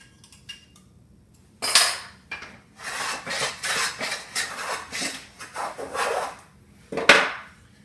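A woodworking hand plane shaves saw ridges from a wooden rabbet in several short, rasping strokes, some closer and louder than others, separated by quiet gaps.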